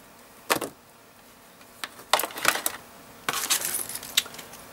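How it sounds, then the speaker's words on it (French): Small plastic bag of screws, washers and little nuts, for fixing antennas on a hardware card, handled close by: several bright clinking, rustling bursts with short pauses between them, alone. "Un petit sachet avec des vis, des rondelles, des petits écrous"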